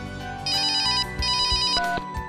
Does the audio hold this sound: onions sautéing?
no